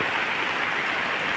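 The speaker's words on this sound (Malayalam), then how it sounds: "രാവിലെ തന്നെ നല്ല മഴയാണ്." Heavy morning rain falls steadily while someone walks through it, a dense, even hiss of drops that stays constant throughout without any voices.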